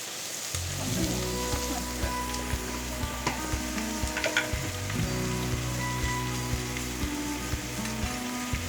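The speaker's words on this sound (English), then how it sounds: "Let it fry for some time." Chicken pieces fry in hot oil in a pan for biryani, giving a steady close sizzle and crackle with occasional scraping stirs and light clinks, without speech.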